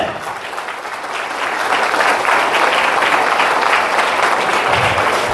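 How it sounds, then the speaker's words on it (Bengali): An audience claps hard together at a motivational talk, a dense crackling ovation that builds after the first second and stays loud and steady to the end. "নিজে নিজেরা ফাটিয়ে হাত তালি, জোরে জোরে"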